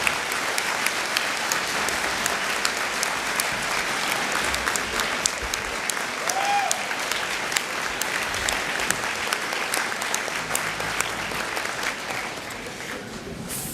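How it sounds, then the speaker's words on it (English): A large crowd at an annual town meeting applauds steadily for several seconds, a dense, even wash of clapping that tapers slightly at the very end. "if we could give Lyndon a round of applause as well"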